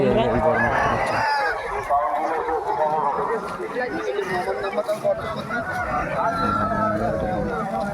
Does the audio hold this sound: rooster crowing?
yes